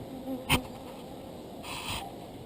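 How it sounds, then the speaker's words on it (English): A single honey bee buzzes faintly around a beekeeper near a hive of docile bees, with two short swells as it passes close, against a quiet outdoor background. "As you can see, I've still got one buzzing around me."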